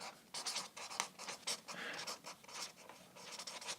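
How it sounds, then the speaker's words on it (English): A pen scratches across a board in quick, uneven strokes, close and fairly quiet, with no talking. "I write up here what the team can expect from me"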